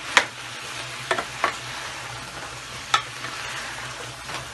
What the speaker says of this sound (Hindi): और इसको थोड़ा सा भूनेंगे